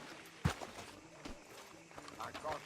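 Horse hooves clop in Red Dead Redemption 2 at a stop outside the sheriff's office, with scattered, irregular hoof thuds under steady talk and ambient game sound.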